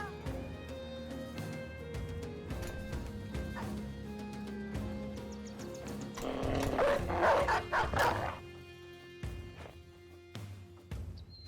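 A war dog in a medieval video game gives repeated close barks and yips over a tonal musical game soundscape, with a louder flurry in the middle and scattered barks before and after, with no talk.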